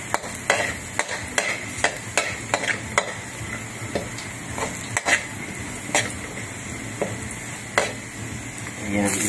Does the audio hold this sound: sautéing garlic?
yes